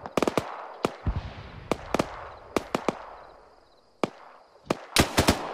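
Gunfire from friendly soldiers in the video game Arma 3: scattered sharp cracks arrive singly and in quick clusters of two or three, some distant, with a faint wash of battlefield noise between them and no talking.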